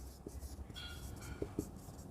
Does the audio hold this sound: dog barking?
no